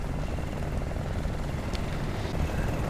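A helicopter in the Battlefield: Bad Company 2 video game gives a loud, steady, thumping rotor-and-engine drone that fills the whole stretch, with no talking over it.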